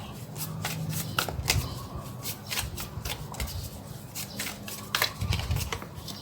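Tarot cards shuffled and drawn by hand during a love reading for Virgo, a close, steady papery riffling and slapping with sharp flicks throughout, no talking.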